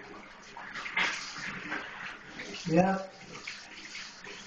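Hot water running from a tap in winter, a steady rushing stream with a brief splash, heard under a man's short remarks.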